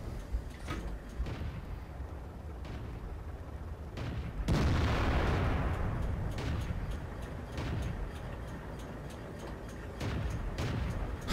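A heavy tank gun fires in World of Tanks, one loud booming blast midway that rolls off into a long rumbling tail, with fainter thumps and clanks before and after.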